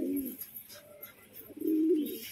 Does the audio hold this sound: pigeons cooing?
yes